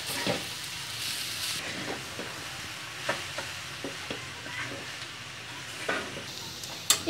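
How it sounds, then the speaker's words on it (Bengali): Semai vermicelli frying in a pan with melted sugar and coconut, a faint continuous sizzle broken by occasional scraping stirs, with no talking. "খুব ভালোভাবে সেমাইটা ভেজে নিতে হবে"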